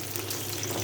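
Peanuts frying with onions in a pan give a soft, continuous sizzle of oil with a low hum beneath, fairly quiet and steady with no voices.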